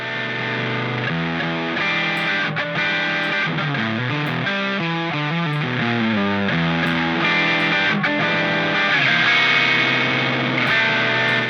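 A heavily distorted electric guitar through a Boss DS distortion pedal plugin plays a melodic riff with sustained, buzzing notes and shifting pitches, loud and continuous without any talking.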